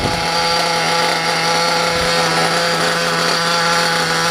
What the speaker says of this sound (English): I got my fan here,